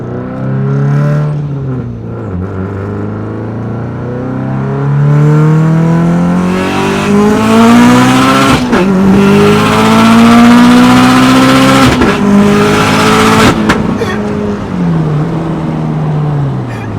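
A turbocharged 40 PSI Subaru accelerates hard on test pulls, its engine note climbing steadily through the gears with brief shift breaks, loud and close throughout with no talking.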